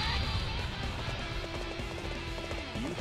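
Rhythmic hoofbeats of a horse galloping in the video game Dynasty Warriors 8: Xtreme Legends, steady and fairly close, with game music and ambient layers underneath.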